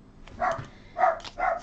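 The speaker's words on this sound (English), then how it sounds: "You can hear the dogs going off again." Dogs bark at a distance outdoors, three short, faint barks in quick succession, with building work nearby.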